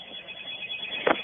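A telephone rings in a radio studio, heard thinly as if over a phone line: a steady tone with a short, louder burst near the end.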